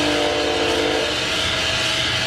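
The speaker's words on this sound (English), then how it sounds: "here goes a train. Sorry, right near a train track." A train rumbles past close to the track, a loud continuous roar with a steady tonal hum and no break.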